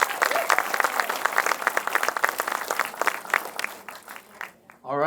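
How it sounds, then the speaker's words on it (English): A debate audience for the Texas Agriculture Commissioner race claps for the candidates, steady crowd applause filling about four seconds before fading as a voice begins. "Big round of applause for all of our candidates"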